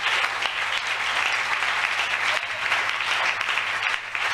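A church congregation applauds loudly and steadily for the king of kings, a dense sustained wash of clapping with no pauses, dipping slightly at the very end.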